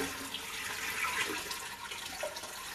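Water is poured into a fish tank with driftwood in a quiet, gentle trickle with light splashing, close by and with no voices.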